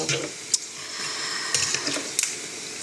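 Pork skin crackling fries in a pan over high heat, giving a steady close sizzle with small pops and occasional sharp crackles throughout.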